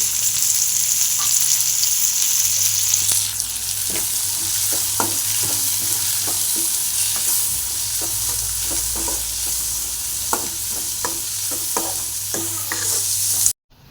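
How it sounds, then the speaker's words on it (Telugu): Onion pieces with curry leaves and mint frying in a pan for a garlic-chili egg fry, a steady loud sizzle with repeated scraping stirs in an even rhythm, close up and with no talking, cutting off abruptly at the end. "నెక్స్ట్ కొంచెం కరివేపాకు పుదీనా వేస్తున్నాండి ఇప్పుడు ఆనియన్స్ కొంచెం మగ్గేంత వరకు వేపుకోవాలండి"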